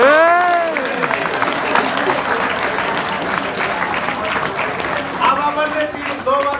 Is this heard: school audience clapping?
yes